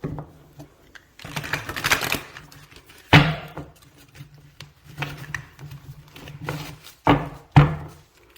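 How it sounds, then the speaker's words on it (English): Cards riffle and snap in a few quick bursts separated by pauses, a close papery flutter with soft taps. "One more shuffle."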